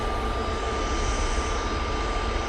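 A Singapore Airlines jet arriving from Singapore at Manchester Airport gives a steady, loud engine roar with a thin sustained whine over a deep rumble, continuous and fairly close.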